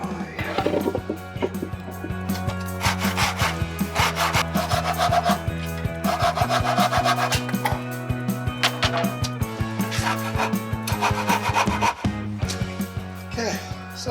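A hand saw cuts through wood to build a protective shipping box, its rapid back-and-forth rasping strokes steady and close throughout with a faint hum beneath.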